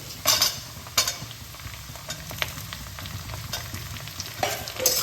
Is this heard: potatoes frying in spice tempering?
yes